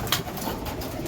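Pigeons coo softly nearby while being fed grain, with one brief sharper call near the start against a steady background hiss.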